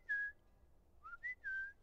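A person whistles an imitation of a bird call, a short clear note followed by a rising two-part phrase, close and alone against a quiet background.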